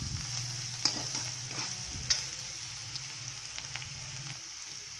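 Onions with turmeric, red chilli powder and salt cook in a pan for an aloo paratha filling, with a soft, low sizzle and occasional sharp spoon scrapes and clicks.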